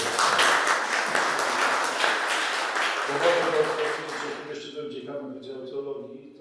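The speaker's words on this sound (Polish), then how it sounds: "I tutaj brawa dla pani doktor." Applause from an exhibition audience at a university library, honouring a woman doctor: dense clapping for about three seconds, then thinning out as a voice begins speaking over the fading claps.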